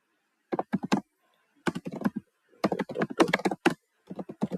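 Rapid bursts of typing on a computer keyboard while entering a query into a Salesforce screen flow: clustered clicky keystrokes in several short runs, close and clear, separated by silent pauses, with no talking.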